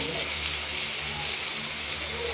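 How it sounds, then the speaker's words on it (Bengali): Cut potatoes fry in hot oil with a dense, constant close sizzle that holds at an even level throughout. "এই কেটে রাখা আলুগুলোকে আমরা এক এক করে ভেজে নেব"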